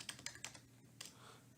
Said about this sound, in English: I should be looking where I'm typing.